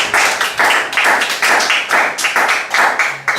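A church congregation claps together in a steady, rhythmic beat, with loud close handclaps repeating evenly and no voices standing out.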